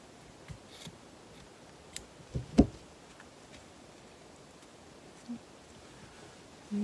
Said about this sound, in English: you take this extra at the top and just trim it off.